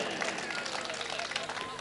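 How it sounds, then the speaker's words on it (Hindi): An audience at a Hindi comedy poetry stage show claps together in a dense, steady patter of many hands, moderately loud and continuous for the whole moment. "तालियां बजाइए।"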